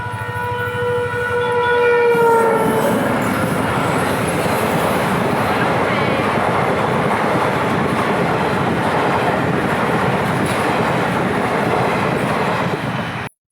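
A train horn blares briefly, then a loud, continuous rumble and rattling clatter of a train rolling past close by.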